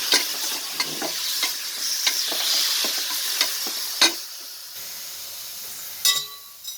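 Country chicken goes into a pan with whole spices such as cinnamon and fennel and fries in its own fat, giving a soft, steady sizzle with sharp stirring and scraping clicks close by.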